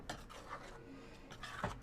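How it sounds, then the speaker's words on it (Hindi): A spoon mixes paneer into cooked spinach in a pan for dhaba-style palak paneer, giving a few soft, quiet scraping and rubbing strokes against the pan with light clinks, close and brief, with no talk. "अब पनीर को हम पालक के साथ अच्छी तरह मिक्स कर लेंगे।"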